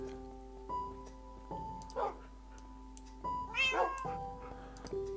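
Cats in the video game Minecraft meow several times in clear, separate calls. The calls sit over a steady tonal game music bed and come at uneven intervals, some overlapping near the middle.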